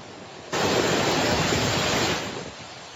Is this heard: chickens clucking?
no